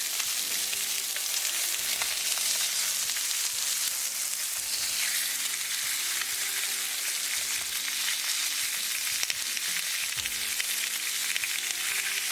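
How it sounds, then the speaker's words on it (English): Salmon frying in olive oil in a skillet on medium-low heat produces a continuous close sizzle with fine crackling pops and faint pan knocks, steady and even from start to finish. "Add salmon. Add a little amount of more olive oil on this side."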